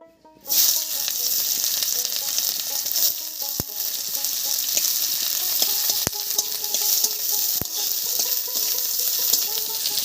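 Dried red chillies and chopped onion hit hot mustard oil in a kadai and burst into a loud, steady, close sizzle that holds for the whole stretch, broken by a few faint clicks.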